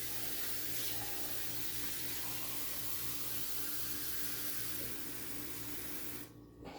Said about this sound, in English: So, I'm just going to add a can full of water.